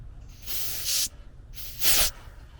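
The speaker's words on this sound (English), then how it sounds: "Just gonna purge with the liquid." Refrigerant gas hisses out in two loud bursts while a heat pump vapor line is purged with liquid during a Lennox and Rheem repair, each burst lasting about half a second to a second with a short gap between.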